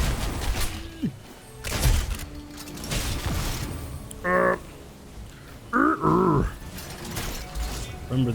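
Creature grunts from the Super Mario 64 video game, several short rough growling bursts spaced apart over a noisy background, with speech-like chatter around them.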